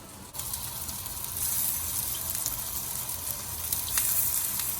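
Bottle gourd muthia mixture cooking in ghee over a slow gas flame, a steady close sizzle that swells slightly and carries faint crackles throughout.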